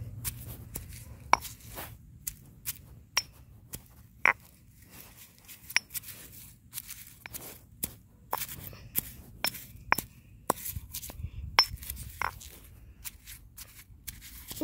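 A pestle pounds and grinds assorted plants and grass in a mortar, giving a steady run of sharp clicking and knocking strikes, close and fairly quiet, spread across the whole stretch with no talking.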